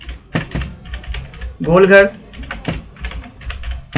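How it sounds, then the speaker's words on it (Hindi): Fast clicking keystrokes on a computer keyboard while typing an address into a spreadsheet cell, close and crisp, running under someone speaking Hindi. "यहां पर हम एड्रेस टाइप करेंगे"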